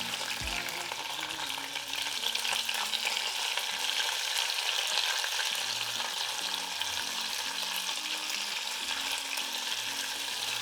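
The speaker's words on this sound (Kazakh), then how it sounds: "Енді картошкадан қалған қызып тұрған майға тәтті бұрышты салып қуырып аламын." Sweet bell pepper fries in hot oil left over from frying potatoes, a loud, constant sizzle and crackle close up, with faint low tones of background music underneath.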